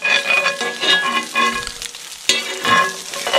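Cowboy stew stirred with a big spoon in a pot on a woodstove outdoors, loud close scraping and sloshing strokes in a steady rhythm with a brief sharp knock partway through.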